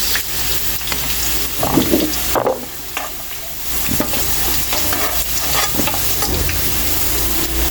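Carrots and potatoes stir-fried in a pan, with a steady loud sizzle throughout and repeated scraping stirs of the utensil, alone with no talk.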